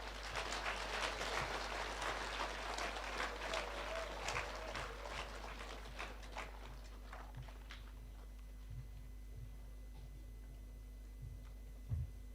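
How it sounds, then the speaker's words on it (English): Audience at a Kenyan county government address in Vihiga applauding in a hall, a dense wash of clapping that fades after several seconds into scattered claps and quiet room noise, with a low steady hum underneath. "People are clapping."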